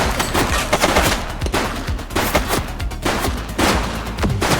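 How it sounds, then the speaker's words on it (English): Loud bursts of gunfire in the police game Precinct, rapid repeated shots in clustered volleys with brief gaps, close and dominant over a noisy city backdrop. "She's shooting!"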